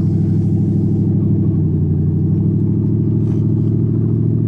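Mercury Marquis car engine idling high with a slipping transmission, a loud steady low rumble close by, unbroken and with no talking.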